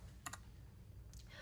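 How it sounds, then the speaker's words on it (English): Typing on a computer keyboard while entering Windows command-line directory commands: a quick pair of close key clicks, a pause, then another short burst of keystrokes against a quiet low hum. "We've done quite a bit of typing so far."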